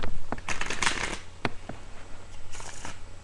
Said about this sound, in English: we'll give them a couple of shuffles like this